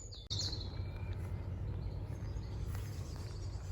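Small birds visit a garden bird feeder on an allotment, with a few high, quick chirps early on, then only soft outdoor rumble and wind.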